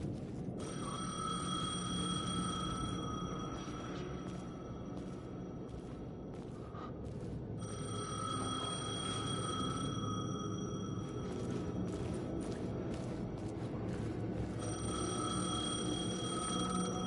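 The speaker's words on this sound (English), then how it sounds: "The payphone was ringing." Payphone ringing inside the video game Alan Wake II, a repeated electronic bell in long ringing bursts separated by short pauses, loud and steady over a low ambient hum with no talking.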